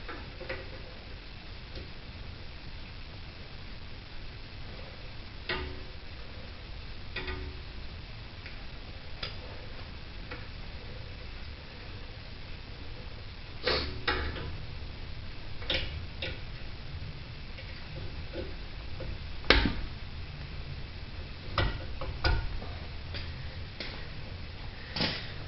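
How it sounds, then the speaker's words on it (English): A ratchet works the castle nut off the lower ball joint of a 2003 Ford Taurus, its fast clicking ticks running in bursts over a quiet garage background, with a few louder knocks toward the end. "We're going to take the cotter pin and the castle nut off of here."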